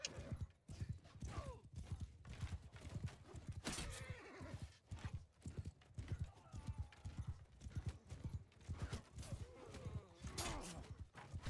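Galloping hooves and horse whinnies in Mount & Blade II: Bannerlord online PvP, including an elite cataphract horse, busy and overlapping, with clashing effects throughout.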